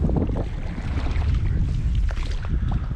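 Strong gusty wind buffeting the microphone beside a lake at the summit of a mountain pass, a continuous low roar with choppy rushing bursts and faint water splashing, no voices.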